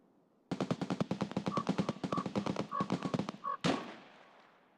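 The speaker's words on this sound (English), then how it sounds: "There's so much shooting happening on the other side of the map" Gunfire in a survival video game: a rapid automatic burst of sharp, evenly spaced shots lasting about three seconds, ending in one heavier blast with a trailing echo, fairly close and without talk.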